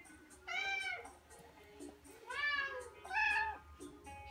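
Several cats at a veterinary visit meowing in turn, three clear drawn-out meows close by over a quiet room background, with no talking.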